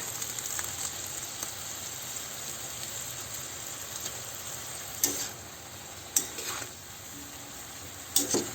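Kangkong with tokwa and pork is stirred in a sizzling pan, a steady low frying hiss under a few sharp scrapes and clinks of the utensil against the pan near the end.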